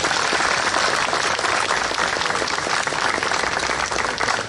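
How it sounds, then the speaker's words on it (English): An audience claps at a Jadotville memorial event, with dense, sustained applause that stays loud and even throughout and has no pauses or voices above it. "Please give them a round of applause"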